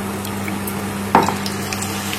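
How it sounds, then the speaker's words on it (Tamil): Jaggery appam batter goes into hot oil in a pan, so a low steady hiss of oil runs under one short, sharper sizzling splash near the middle. The sound is close, with no voices. "அப்பத்துக்கு நம்ம அரைச்சு வச்சிருக்கோம்ல மாவு, அதை இதுல இப்ப விட போறோம்."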